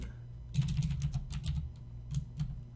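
A computer keyboard is typed on nearby in quick irregular bursts of soft clicking keystrokes, with a short pause between runs and no talking.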